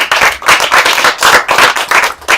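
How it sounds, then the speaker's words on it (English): A crowd applauds loudly with dense, sustained clapping that swells in waves for a couple of seconds. "Can we get a round of applause for Sadhguru, everybody?"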